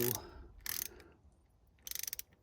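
A torque wrench ratchets in two short bursts of rapid clicking while tightening the T40 Torx rear brake bolts with lock nuts on a 2021 BMW R1250 GS Adventure during its first service, with quiet pauses between.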